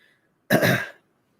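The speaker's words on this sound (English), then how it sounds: "clearing my throat" A single short, rough throat clearing, close and fairly loud, lasting about half a second with silence before and after.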